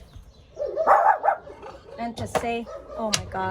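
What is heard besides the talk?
dogs barking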